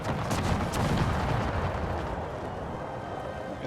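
Cannon fire booms during an Empire: Total War battle, rolling together into a dense, continuous roar of overlapping blasts with no clear gaps.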